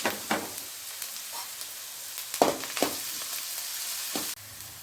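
Chopped carrots and beans frying in oil in a pan, a steady soft sizzle with a few sharper stirring scrapes and clatters, no talking.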